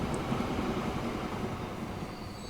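A train in the video game Transport Fever 2 slowing as it crosses a bridge, giving a steady low rumble of rolling wheels and carriages with faint high squeals.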